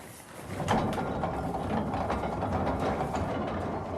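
A pony-driven apple crusher on an Edwardian-style farm grinding apples into pulp, giving a continuous clattering, ratcheting mechanical churn with rhythmic gear clicks, fairly close and steady, with no talk.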